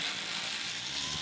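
Ratcheting tool backing out screws on a Harley Davidson license plate bracket, a brief run of quick mechanical clicks at steady volume.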